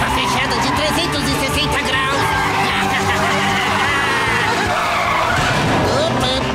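A cartoon car skids through a tight 360-degree turn, tires squealing and screeching loudly and continuously under an excited voice, with engine roar throughout.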